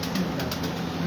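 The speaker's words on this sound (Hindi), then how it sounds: "ये एक और कबूतर आ रहा है, वो भी देखते हैं।" An arriving pigeon among kept pigeons gives a brief, soft coo with a faint flutter of wings, close by over a low background hum.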